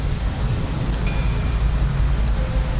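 Rain pouring down in the game Rain World, a constant dense roar of downpour with a low rumble beneath it and no voices.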